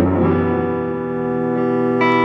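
A sustained, heavily distorted electric guitar chord from a Fender guitar through a Rock You Die distortion pedal rings out loud and thick, with a fresh strike near the end.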